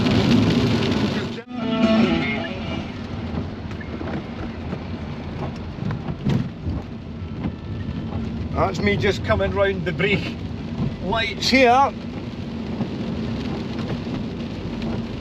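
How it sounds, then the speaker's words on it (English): Heavy torrential rain roars steadily with a dense, hissing wash, heard from inside a moving Vauxhall Vectra B 2.2 16v, while someone talks over it and brief squeaky sounds cut through. "Torrential rain."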